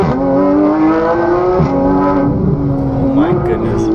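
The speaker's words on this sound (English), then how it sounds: "Get ready to hear the Porsche Flat 6 Symphony." A Porsche GT3 RS flat-six roars loud and close, its exhaust holding a strong steady howl with a couple of quick dips and rises in revs, mixed with a sharp high-pitched edge.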